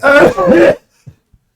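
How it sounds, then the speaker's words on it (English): A single loud, close cough, short and harsh, followed by a couple of faint low throat sounds, with no talking. "The big cough."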